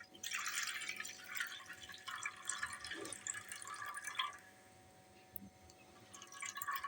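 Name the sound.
water being drained off soaked sago pearls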